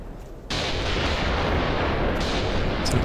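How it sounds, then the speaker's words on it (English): Incoming artillery fire, a sudden loud roar that begins half a second in and holds as a continuous rumbling barrage with a heavy low end, with faint scattered crackles near the end and no talk. "Is that artillery coming in, I think?"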